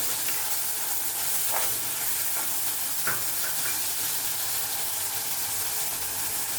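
Crushed green chillies sizzle and fry in a fish curry pan, a dense close hiss and crackle running steadily throughout, with occasional scraping stirs.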